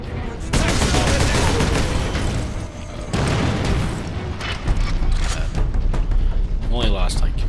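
Rapid gunfire and booming explosions in the Space Marine video game, loud and continuous with dense bursts throughout, mixed with a voice talking over the action.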